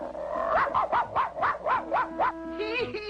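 A cartoon city dog yaps in a quick, even run of about eight high yips, ending in a short rising whine.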